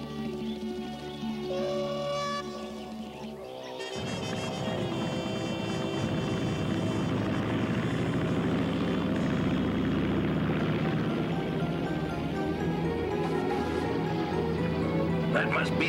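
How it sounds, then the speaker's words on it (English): A seaplane approaching in an animated adventure cartoon, its propeller engine droning steadily and loudly under a musical score, with a voice speaking over it. "That must be the seaplane."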